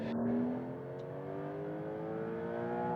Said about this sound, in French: À 130 km par heure, on ressent toujours une soudaine poussée de puissance.